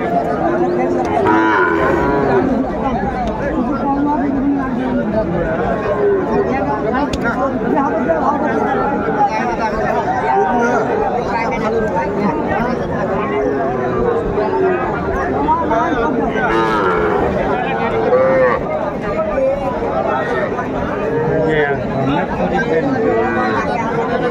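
Cattle moo repeatedly amid a dense crowd at a weekly livestock market where young bulls and heifers are traded, the lowing mixed into loud, constant chatter and nearby speech.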